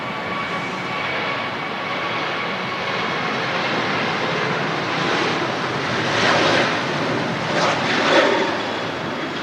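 A Jet2 Boeing 737 takes off at Manchester Airport with a late rotation, giving a sustained jet roar that swells toward the end, rough with wind buffeting on the microphone.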